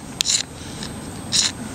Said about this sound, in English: I'm just going to shave off some shavings here